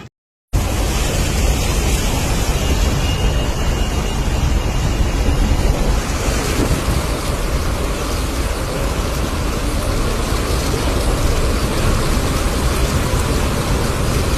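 Heavy rushing floodwater after a torrential downpour in Solapur, a loud, steady broadband roar close to the microphone that runs almost without a break.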